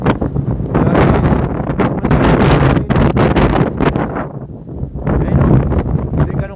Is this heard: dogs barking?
no